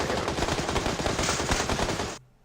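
Dense, rapid gunfire in the PUBG battle royale game, sustained bursts off to the right that stop abruptly near the end, leaving near silence.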